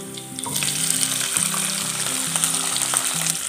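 Small onions and garlic sautéing in oil in a pan for fish curry, a loud, dense, continuous sizzle close up, with occasional stirring clicks.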